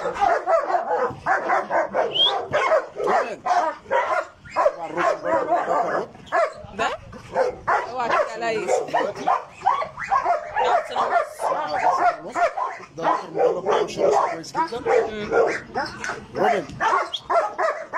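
Dogs bark and yip at a dog breeding farm in Egypt where German Shepherds are kept, with repeated barks mixed into steady talk throughout.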